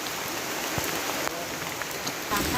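Steady rain falling on surfaces outdoors, a dense even patter with scattered nearer drops and brief louder taps, continuous and fairly close.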